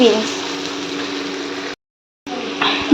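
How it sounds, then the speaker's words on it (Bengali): Carrots and spring onion fry briefly in a pan, a dense close sizzling hiss that cuts out abruptly into silence and then resumes. "দিয়ে তারপরে গাজর দিয়ে হালকা একটুখানি ভেজে নিচ্ছি 2-1 মিনিট।"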